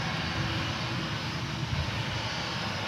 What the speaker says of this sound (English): Sending its jet blast in our direction.